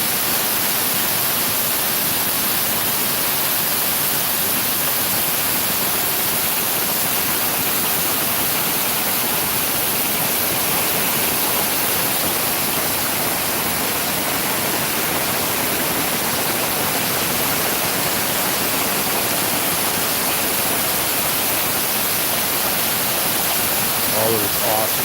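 Steady, loud rushing of water cascading at the Fort Worth Water Gardens fills the whole stretch as a dense, unbroken roar, with no clear voices rising above it.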